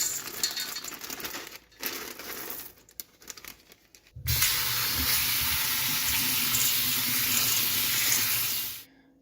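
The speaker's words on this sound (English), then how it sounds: "let me wash these beans." Tap water runs over dry beans being rinsed, first rustling and crinkling handling with brief pauses, then a loud steady rush of running water for several seconds before it shuts off.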